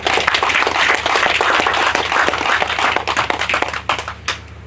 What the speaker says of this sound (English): Can we please give a big round of applause to our readers and to our mayor?